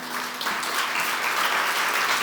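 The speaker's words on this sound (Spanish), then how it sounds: "Dale un aplauso al Señor" A church congregation applauds together, a dense, loud wash of clapping that fills the whole short stretch without pause.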